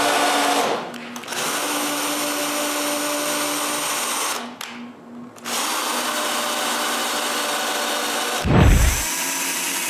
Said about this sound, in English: So now I can tap the wood.